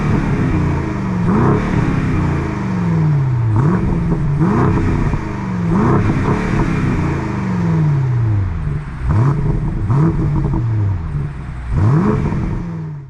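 An Alpina B5 Touring estate's engine is blipped repeatedly, loud and close, each rev rising and then falling away over about six cycles with a steady idle between.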